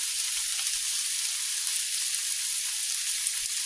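Skin-on breakfast potatoes and onion frying in a very hot pan, giving a loud, even, continuous sizzle like hissing rain that holds steady throughout, with no talking.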